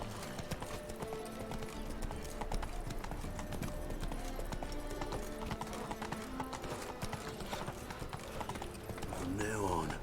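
Roach the horse gallops in The Witcher 3, a rapid, steady clip-clop of hooves that runs throughout under game music, with voices talking over it.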